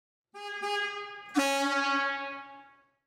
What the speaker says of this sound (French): klaxonnez deux ou trois fois pour avertir les gens autour